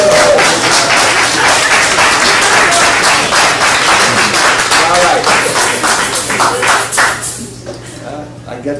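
A lecture audience breaks into loud, dense applause and clapping that holds steady for several seconds, then thins and fades toward the end, with a voice audible underneath.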